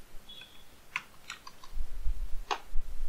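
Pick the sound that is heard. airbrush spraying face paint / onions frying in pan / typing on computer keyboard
typing on computer keyboard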